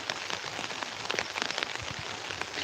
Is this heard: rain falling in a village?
yes